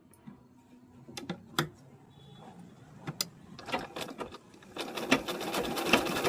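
A pico sewing machine stitching the pallu of a saree, starting with scattered mechanical ticks and clicks that build into a rapid, steady clatter of stitching, fairly quiet and close.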